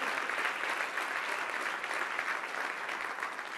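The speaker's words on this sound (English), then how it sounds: "give them a round of applause" Audience members at a Destination DC marketing outlook meeting give sustained applause, a full, even patter of many hands that stays moderately loud for a few seconds.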